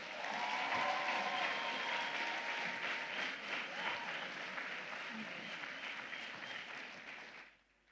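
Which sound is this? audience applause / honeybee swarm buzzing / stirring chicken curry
audience applause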